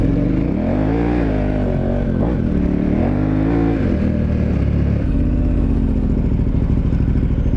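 A dual sport motorcycle on Avon TrekRider AV84 and AV85 50/50 tires accelerates hard, its loud close engine note rising and falling through gear changes with a steady rumble and no talk.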